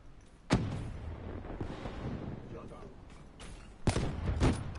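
Sharp gunshots in Black Ops 3 gameplay ring out in a few distinct bursts, with a loud crack early and a quick cluster near the end, over steady game background noise.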